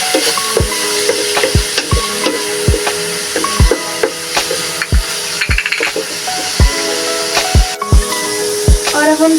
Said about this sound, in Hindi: और साथ ही इसमें थोड़ा सा सिरका डाल के भी इसे अच्छे तरीके से भून लेंगे